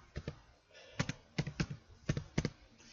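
Fingers type on a computer keyboard while entering HTML code: soft, uneven clusters of key taps in short bursts with brief pauses, close and quiet, with no talking.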